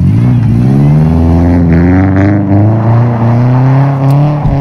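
A car fitted with an amateur home-welded exhaust revs loudly and close, its deep droning note holding steady with small rises and dips in pitch and no talking over it.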